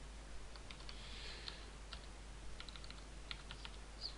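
Quiet, scattered clicks of fingers typing quickly on a computer keyboard, faint and irregular against low background hiss.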